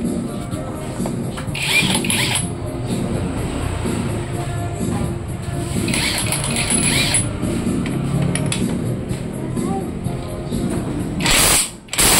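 Mechanical grinding and clicking of a tool working loose a seized bottom bracket on a bicycle frame, a steady ratcheting rattle running throughout with brief sharper bursts, close and fairly loud.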